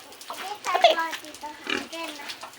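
A young child bathes a pig outdoors; snorts and oinks mix with excited child chatter and an adult voice nearby.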